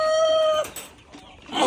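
A Chinese silky chicken gives a close, loud, drawn-out tonal call, then a short pause and a harsher, noisier cluck at the end.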